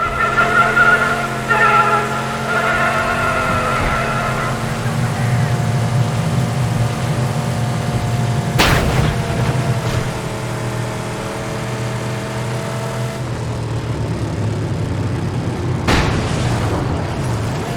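A vehicle in the Mad Max video game slides after the driver lets off the gas. A loud, steady engine drone and the rumble of tires carry through, with a pitch that falls as it coasts, and a couple of sharp impact bangs break in.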